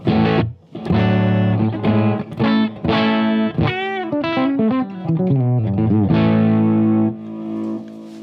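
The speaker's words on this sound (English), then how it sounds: "Then we have the delay." Distorted electric guitar plays sustained chords and bending notes through a delay pedal on a pedalboard, thickened by an echoing delay that smears each phrase into the next.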